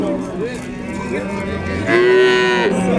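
Cattle mooing at a livestock market in Chust, with long drawn-out moos rising and falling close by over a background of market noise and faint voices.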